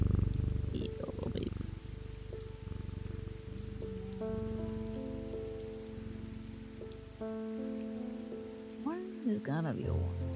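In the video game Strange Antiquities, a cat purrs after being petted, a soft low rumbling purr that runs steadily beneath rainfall pattering on a surface, with gentle chimes and tones layered on top.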